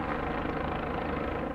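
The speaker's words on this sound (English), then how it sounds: "A U.S. Border Patrol helicopter tries to find him from the air" A U.S. Border Patrol helicopter in flight gives a loud, steady rotor and engine roar that fills the whole moment with no break.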